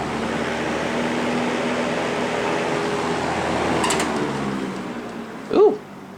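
A General Electric box fan runs on its high speed setting, giving a steady broadband whoosh with a low motor hum. A brief clunk sounds near the end.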